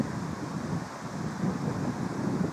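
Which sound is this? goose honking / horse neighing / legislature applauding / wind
wind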